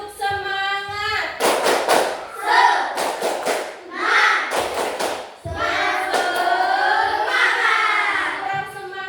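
Children in a classroom perform a rhythmic clapping chant, bursts of sharp hand claps alternating with group chanting voices, loud and close, led by a teacher's voice.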